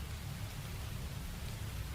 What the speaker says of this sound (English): You guys hear rain?